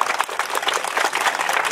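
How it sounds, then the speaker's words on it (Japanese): An audience applauds at the P1 podium ceremony of the 16th JBCF Iwaki Criterium cycling race, a steady, dense patter of clapping throughout. "改めて大きな拍手をよろしくお願いいたします"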